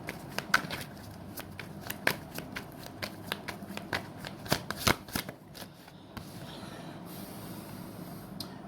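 Tarot cards being shuffled, a run of sharp riffling snaps and flutters in quick irregular bursts, close and fairly clear, with a softer rustle near the end and no talking.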